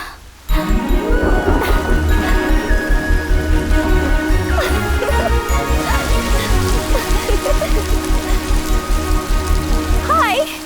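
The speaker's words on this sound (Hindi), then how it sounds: "जाते वक्त जो बारिश आनी चाहिए थी वो लौटते वक्त आ गई।" Heavy rain pours steadily in a Hindi-dubbed film scene, a loud, dense and continuous hiss with a low rumble beneath it throughout.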